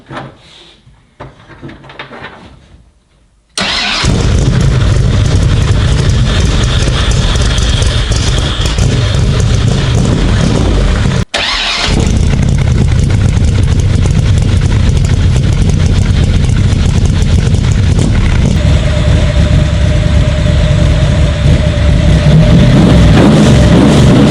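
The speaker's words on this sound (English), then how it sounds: "I have to turn on the ignition. Fuel pump. The moment of truth." A 427 Cobra replica's engine cranks and fires after a quiet pause, then settles into a loud, steady idle that carries on for most of the clip with one brief dip.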